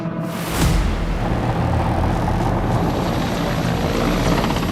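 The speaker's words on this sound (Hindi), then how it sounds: "पहाड़ों पर गरजता हेलीकॉप्टर" Military helicopter roaring steadily over mountain peaks during a joint army counter-terrorism exercise in Uttarakhand near the China border, a loud, continuous rotor and engine drone holding close throughout with no speech.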